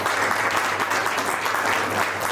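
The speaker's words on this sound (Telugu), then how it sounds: "Give her a big applause." Dense crowd applause for a singer at an awards ceremony, a steady wash of many hands clapping that stays loud and even from start to finish.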